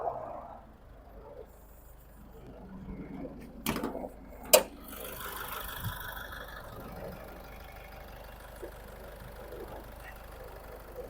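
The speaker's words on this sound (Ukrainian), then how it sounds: "Подивимось ще до двигуна прийдемо як працює двигунчик у нас" The diesel engine of a 2012 Peugeot 4007 idles quietly in the background with a low steady hum, interrupted by a couple of sharp clunks and brief rustling.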